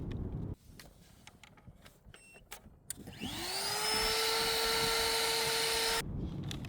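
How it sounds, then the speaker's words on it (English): A vacuum cleaner powered by an Aferiy P210 portable power station whirs up with a rising pitch, then runs as a loud, steady drone for about three seconds before cutting off abruptly, following faint background clicks and handling noises. "me plugging the vacuum cleaner in and showing you that"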